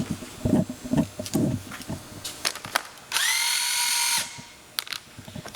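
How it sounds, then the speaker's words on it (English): A power drill whirs steadily for about a second, loud and close, drilling into an MGB exhaust manifold, between scattered knocks and handling clatter. "So let me get my drill."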